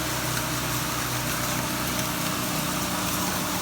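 A HAAS VF4-SS CNC machine runs a 2.5-inch carbide insert drill deep into metal, giving a steady, dense, loud grinding roar with no breaks.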